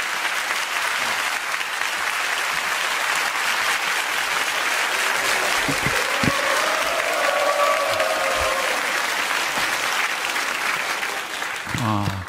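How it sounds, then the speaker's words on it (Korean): A congregation at a Korean church revival service gives long, sustained applause that fills the sanctuary, with a voice speaking briefly over it and a short tonal sound partway through. "큰 박수로 격려해 주시기를 부탁을 드리겠습니다"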